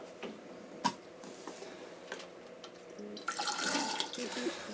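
Water drained from a fish tank runs through a hose into a small floor drain beside a furnace, a faint steady trickle with occasional clicks and taps, swelling into a louder splashing rush near the end.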